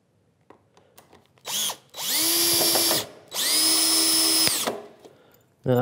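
A power drill drives a screw into pine on a workbench build, running in two long whining bursts of roughly a second each, close and loud, with a brief rev before them and faint handling sounds between.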